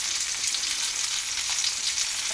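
Fish frying in a pan, a steady close hiss and crackle of hot oil, continuous and alone.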